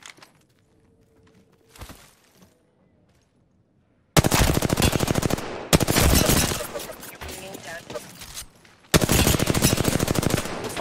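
Automatic weapon fire in Apex Legends season 21 crackles in three long, loud, rapid bursts after a few quiet seconds with a single faint shot.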